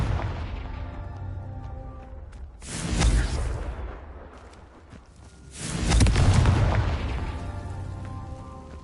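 Two heavy fiery blasts from the Confringo fire spell in Hogwarts Legacy boom out a few seconds apart, each a loud rumbling burst that swells and fades over a steady game backdrop.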